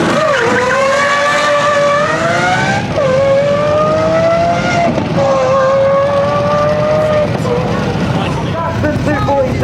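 Supercars launch hard at a car festival, loud engines rising through repeated gear pulls and dropping between shifts, close and sustained, with voices mixed in beneath.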